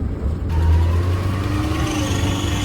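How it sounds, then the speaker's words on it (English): A Daihatsu Mira's small engine revs hard and steadily, a loud, close buzzing drone that holds high with harmonic whine on top throughout. "No, let's give it another rev."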